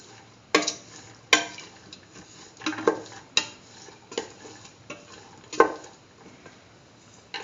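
Split chickpea yam rice being mixed in a pan, with a series of sharp spoon scrapes and clanks against the metal recurring every second or so, close and fairly loud over a quiet background.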